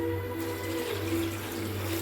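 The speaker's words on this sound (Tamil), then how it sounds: "இப்போ தேவையான அளவு தண்ணி ஊற்றிக்கலாம்." Water pours steadily into a pressure cooker with a continuous rushing gurgle and a faint low hum underneath.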